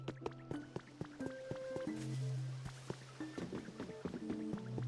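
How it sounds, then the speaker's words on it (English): Waterfall and a working water mill in the video game Pokémon Pokopia: soft, steady trickling and dripping water under plinking synthesized game tones, with no talk. "Another waterfall, and now we got the water mill working."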